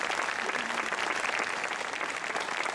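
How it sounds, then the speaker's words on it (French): Audience applause at the inauguration of an outdoor sculpture trail in La Ferté-Saint-Aubin, steady dense clapping from a crowd lasting throughout, moderately loud and continuous with no talk over it. "je voudrais que vous la remerciez, s'il vous plaît, en l'applaudissant"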